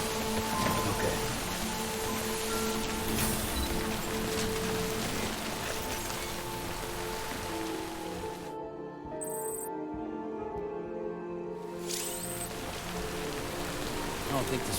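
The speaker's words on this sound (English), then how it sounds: "I don't think this rain's gonna stop." Steady rain falls in the video game Death Stranding, a continuous hiss with soft tonal music or ambience underneath and a brief quieter gap near the end.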